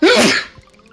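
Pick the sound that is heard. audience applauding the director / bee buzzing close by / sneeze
sneeze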